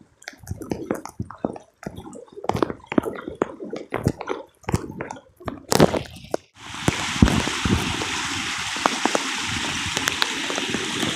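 Rising river water after rain, heard first as scattered splashes and gurgles, then as a steady loud rushing flow filling the scene, with no voices.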